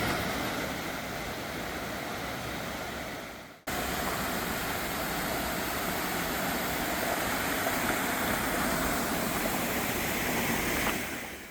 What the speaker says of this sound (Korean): 규모는 크지 않지만 웅장한 기세가 멋진 폭포입니다.